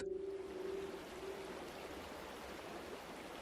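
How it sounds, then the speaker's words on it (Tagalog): A river stream flowing steadily in a remote rural area of Capiz, a soft continuous wash of water heard from nearby, with no talking. "Nakaka-relax yung tunog ng ilog."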